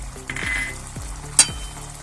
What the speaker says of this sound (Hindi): टमाटो हमारे फ्राई हो गए हैं।